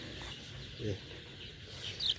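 Drowsy, ailing chickens give a few soft, faint clucks over a quiet farmyard background.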